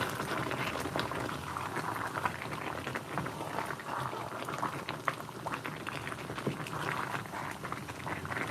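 A pot of green bananas (matoke) simmers in water on the stove, giving a steady, close, low bubbling and crackling hiss that runs throughout with no voices.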